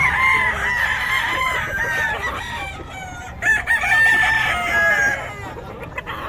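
Several chickens and roosters at a poultry sale in Bocaue crow and cluck at once, a busy overlapping chorus of calls from nearby birds.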